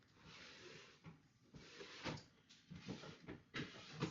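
A drawer is opened and shut while someone rummages for twine, giving several soft knocks and sliding scrapes spread over a few seconds, faint and close, with no talking.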